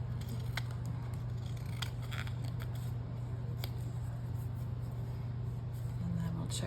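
Scissors snip and crunch through a small double-sided paper tag in quick close cuts over a steady low hum, with faint rustling of paper between strokes.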